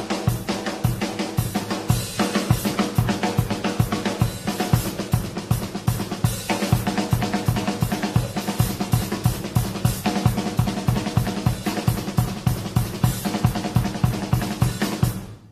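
Rock drum kit pattern played with five accented hi-hat strokes, a steady, driving groove of close, loud kick, snare and cymbal hits repeating evenly throughout with no voice.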